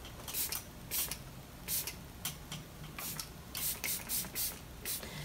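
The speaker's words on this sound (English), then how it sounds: "It's setting spray." Short bursts of spray hiss in a quick irregular series, close and fairly soft, with no talking.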